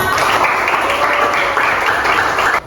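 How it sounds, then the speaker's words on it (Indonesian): Applause from a school class at the end of a science lesson, dense steady clapping from many hands, loud and sustained across the whole stretch before cutting off abruptly. "Kasih dulu aplaus untuk kita semua."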